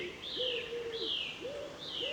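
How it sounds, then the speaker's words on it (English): Birds sing on an evening walk around a circular route near Barkway, with repeated sweeping whistled calls rising and falling in a steady rhythm, clear and moderately close over quiet open-air background. "With all the bird song around, that makes up for it."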